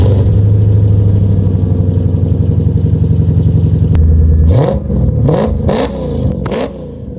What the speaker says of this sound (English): let's get you guys a cold start real quick